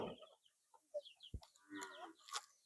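Free-range desi chickens on a small cattle and goat farm cluck and chirp in short, scattered calls at close range, with brief rustling between the sounds.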